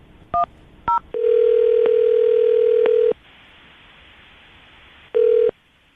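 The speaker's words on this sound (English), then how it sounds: "Let's see if we can call him back again and see if he'll answer." Telephone call placed on a radio show: two short dial-tone beeps, then a long steady ringback tone for about two seconds, a quiet pause with line hiss, and one more ring burst, heard alone with no talk.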